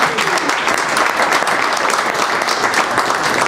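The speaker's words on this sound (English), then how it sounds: "Big applause for Tracy." A conference audience gives dense, sustained applause for a panel moderator, a steady wash of many hands clapping without pause.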